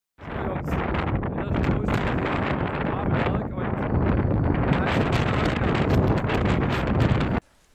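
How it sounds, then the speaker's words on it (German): Strong wind buffeting the microphone atop Table Mountain in Cape Town: loud, continuous roaring gusts with rumbling low-end bursts, running for several seconds and cutting off abruptly. "dennoch sehr heftiger Wind hier oben"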